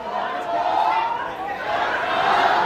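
Crowd noise from spectators at a live boxing event inside Live! Casino in Hanover, Maryland, a steady murmur of chatter and voices filling the arena at moderate distance, with no pause throughout.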